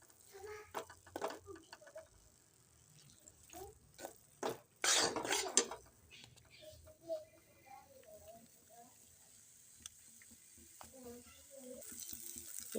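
Broken-up potatoes fry quietly in a pan with a soft sizzle, while a utensil stirs them with intermittent scrapes and clinks against the metal.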